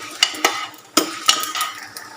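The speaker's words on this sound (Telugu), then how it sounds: "కొంచెం వేగిన తర్వాత తీసి వేసి ఇదిగండి వేపి పక్కన పెట్టుకున్నాను. ఇట్లా వేగాలండి బాగా." Around thirty dried red chillies fry in a pan, with light sizzling under several quick, sharp scrapes and clinks of a spatula against the metal, close and fairly loud.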